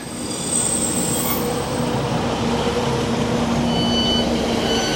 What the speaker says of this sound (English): Just in time for the train to go back the other way